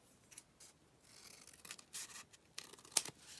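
Scissors snip through paper being cut for an envelope pocket booklet, a quiet series of short, close crisp cuts and rustles with one sharper snip near the end.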